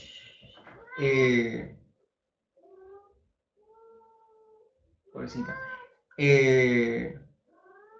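A young mother cat meows in two loud, drawn-out bursts, with softer short mews between them; someone speaks briefly near the start.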